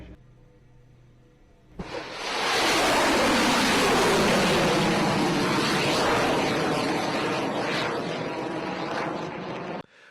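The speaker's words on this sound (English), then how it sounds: "3, 2, 1. We have ignition." Rocket engine ignites abruptly and swells into a loud, continuous roaring launch rumble with broad hiss, sustained for about eight seconds before cutting off, no voices over it.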